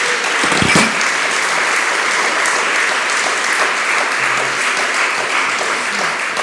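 A crowd claps in sustained applause, even and fairly loud, after an event celebrating a hospital ranking.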